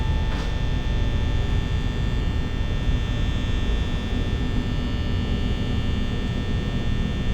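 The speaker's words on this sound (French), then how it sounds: "le bruit du ventilo, vraiment, ça me casse la tête" Office fan in the video game Five Nights at Freddy's, a constant loud droning hum with a steady whir running unbroken throughout, with no speech.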